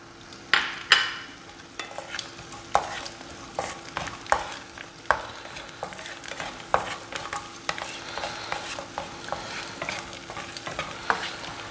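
Cashews and raisins fry in ghee for chakkakkuru pradaman, a gentle steady sizzle broken by frequent light scrapes and taps of a spoon stirring against the pan, close and fairly quiet with no voices.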